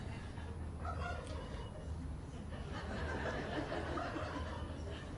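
A turkey named Stars gobbles and clucks a few times at a presidential pardon ceremony in Washington, D.C., heard faintly against a murmuring crowd.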